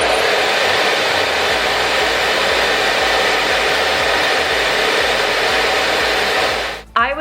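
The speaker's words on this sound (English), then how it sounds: "And then both at the same time." A Dyson Airwrap and an Elchim professional hair dryer run together, producing one continuous loud blowing roar that holds steady for nearly seven seconds before cutting off abruptly, leaving a brief rustle.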